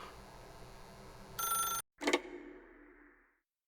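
A telephone rings in the video game The Stanley Parable, giving one short bright ring that breaks off, then a second ring that fades away into silence.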